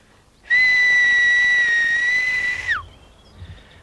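A single loud, steady whistled note held for about two seconds that bends sharply downward at the end, followed by quiet.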